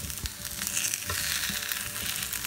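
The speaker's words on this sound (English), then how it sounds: "Usually for hash browns, you wanna cook them for 2 to 3 minutes on each side." Hash browns frying in a pan give a steady, close, crackling sizzle with small pops and a light stirring scrape, continuous and with no talk.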